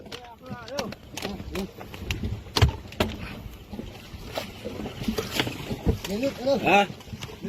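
A boat sits on the water while passengers climb aboard, with a steady wash of water and wind, scattered knocks and thumps of boarding, and people talking and calling out throughout.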